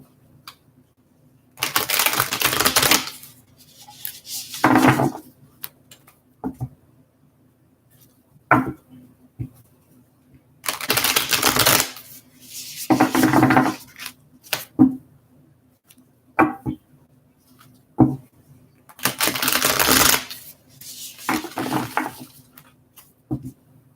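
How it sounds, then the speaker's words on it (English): Tarot cards are shuffled by hand in several separate bursts of papery riffling and flicking, close and fairly loud, with quiet pauses and light taps between them. "one more shuffle here for Geminis"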